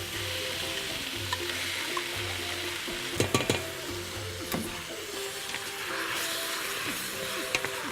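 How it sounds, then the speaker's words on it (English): Steady sizzling and crackling of tomato puree frying with vegetables in a pan, with a few brief clinks of a utensil stirring, continuous and fairly close. "Why I'm frying the tomato puree together with the vegetables"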